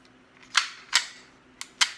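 An unloaded Ruger 10/22 rifle is dry-fired and its trigger reset, giving four sharp, faint mechanical clicks close by, arriving in two uneven pairs against a quiet background.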